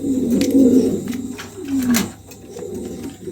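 A moulting female fancy pigeon in opal colouring coos close by, several low, rolling murmurs in short phrases over a quiet background.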